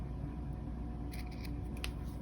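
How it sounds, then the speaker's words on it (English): Sharp sewing scissors snip the ends of a pendant scarf, giving a few quick, faint clicks late in the moment over a steady background hiss. "It's helpful to have a nice sharp pair of sewing scissors and cut them off at like a"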